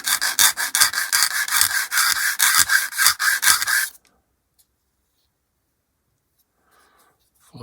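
Rapid rhythmic scratching strokes of a sanding sheet rubbing a plastic part of a 1/48 HK Models B-25J model kit, close and crisp for about four seconds, then near silence.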